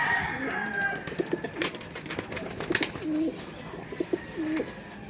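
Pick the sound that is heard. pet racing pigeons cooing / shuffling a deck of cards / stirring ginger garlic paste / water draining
pet racing pigeons cooing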